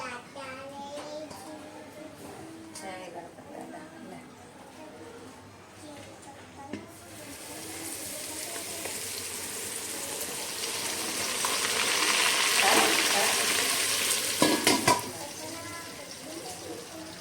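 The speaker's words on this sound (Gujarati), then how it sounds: "હવે આપણે વઘાર કરી નાખશું" Hot oil tempering is poured over raw mango pickle spices and bursts into a sudden, loud, steady sizzle partway through, swelling and crackling toward the end after an earlier stretch of quiet talk.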